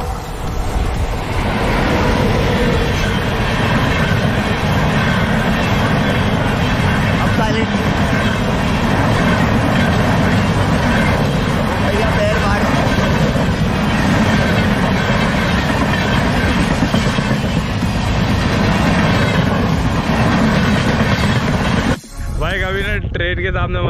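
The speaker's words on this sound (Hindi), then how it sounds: "ट्रेन के सामने मत खड़े हो ना भाई" A train rumbles past close by in a dry desert area near a waterfall trip. Its loud, continuous roar carries a clickety-clack of the wheels for about twenty seconds and then cuts off abruptly, with voices faint underneath.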